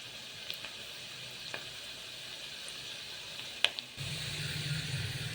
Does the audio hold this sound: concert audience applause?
no